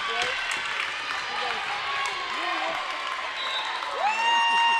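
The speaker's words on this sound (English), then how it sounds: "And the Jags fans are cheering." Jags fans cheer and clap in a school gym during a Northern Cass versus Oak Grove volleyball match, with steady crowd noise and a few shoe squeaks under a commentator talking.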